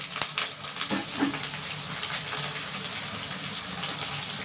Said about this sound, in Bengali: মশলাটা আমি কষাবো, একটু জল দিয়ে দিলাম।